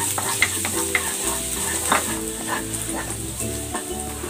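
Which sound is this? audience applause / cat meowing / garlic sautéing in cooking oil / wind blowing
garlic sautéing in cooking oil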